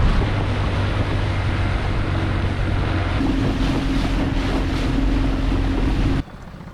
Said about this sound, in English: we motor about a mile into the mangroves